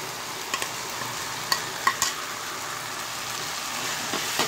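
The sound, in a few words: boiled masoor lentils added and stirred into cooking jute leaf greens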